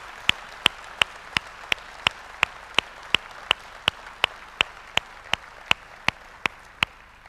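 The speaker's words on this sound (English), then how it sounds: "I think we owe a big round of applause to Dusty Green" Audience at a business talk claps in slow, even unison, about three sharp, crisp claps per second over a quiet background, with no talking.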